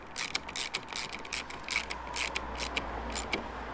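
A mechanic tightens the spoiler bolts on a Mini R53 with an Allen key or wrench, a rapid run of small clicking ratchet strokes coming close and steady over a low background hum.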